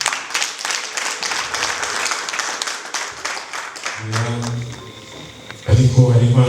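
Wedding guests clap together in a dense, steady round of applause for several seconds, then it gives way to voices and a crowd murmur with louder talk near the end.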